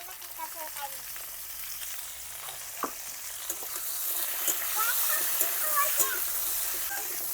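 Cauliflower and potato fry in a pan for a Bengali-style katla fish curry, giving a soft, steady sizzle with occasional stirring clinks and scrapes, moderately faint and without talk.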